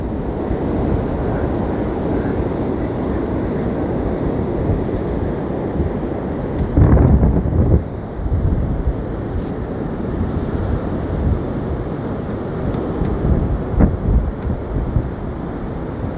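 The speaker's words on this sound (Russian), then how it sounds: "Ветер хороший." Strong hurricane wind roars along the beach at Anapa, a dense continuous rumble with wind buffeting the microphone and a couple of louder gusts, loud and close throughout, with no voices.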